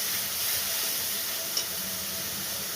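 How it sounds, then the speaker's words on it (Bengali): Spice paste for potol chingri sautéing in a pan gives a steady, close, loud sizzle and hiss throughout, with a faint clink partway through. "ভাজা ভাজা মশলাটা কষছি"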